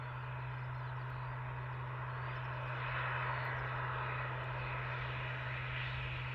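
A Ryanair airliner arriving at Luton Airport gives a steady, distant engine roar that swells a little midway, under a constant low electrical hum, with no voices.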